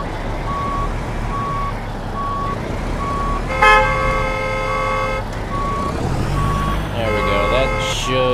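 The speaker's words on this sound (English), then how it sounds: "Everybody would just stop honking their horn at us." Truck horns honk in American Truck Simulator over a steady engine drone, with a regular reversing beep pulsing throughout and a loud horn blast near the middle and again toward the end; a voice talks over parts of it.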